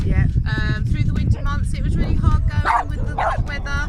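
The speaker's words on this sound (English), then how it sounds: "Excuse the dogs." Several dogs bark, yip and whine repeatedly outdoors, fairly close and loud, over and between a person speaking during an interview, with faint traffic behind.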